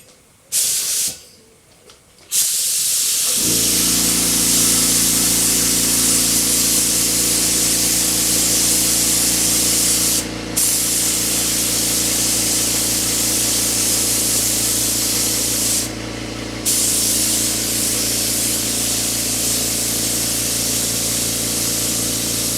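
Steady, loud hiss of an airbrush or spray can coating the hull of a Polar Lights 1/350 Star Trek TOS Enterprise model, running continuously after a brief pause with two short breaks mid-spray.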